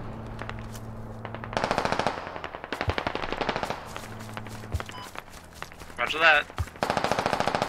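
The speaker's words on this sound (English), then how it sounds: "Try to flank that machine gunner." Bursts of machine gun fire in the military shooter Squad during a large counter-insurgency battle, repeated rapid volleys near and far with running footsteps between them, while a voice briefly speaks over the action.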